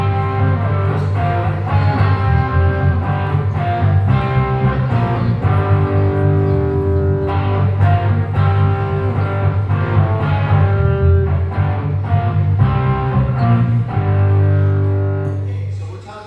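Rock-style electric guitar with a distorted, sustained tone plays the same five blues notes as a steady stream of riffs and held notes, loud and continuous, with a faint fade at the end.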